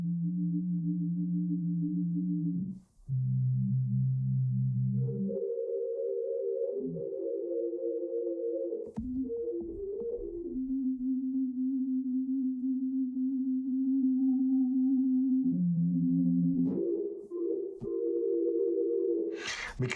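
Sustained notes from the Raven dual-oscillator synthesizer with delay and reverb shift between pitches, held tones with smooth glides, tails lingering and echoing with a roomy, spacious wash.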